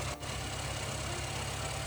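A steady pickup truck engine drone in Roblox hums at an even pitch, a brief dip at the start, not very loud.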